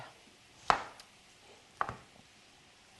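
Knife chopping potatoes for home fries on a cutting board: three sharp, separate chops, spaced unevenly and fairly close, with quiet pauses in between.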